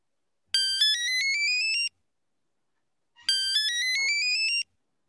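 An old mobile phone, about ten years old, rings in two separate bursts of rapid, rising electronic beeps, loud and clear with silence between them.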